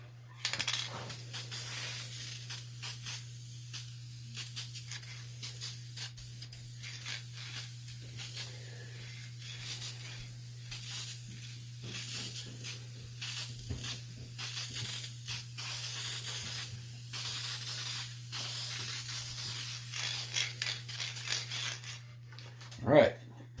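Polyurethane sprayed from an aerosol can onto a wooden cutting board, a faint intermittent hiss in short and longer bursts over a steady low hum, sputtering as the can runs low, with occasional soft talk.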